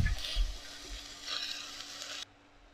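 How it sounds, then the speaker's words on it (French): Whole morel mushrooms sautéing in olive oil in a pan, a soft crackling sizzle with a couple of brief stirring bumps, fairly quiet and close, ending abruptly in near silence. "Et je fais revenir comme ça mes morilles relativement entières."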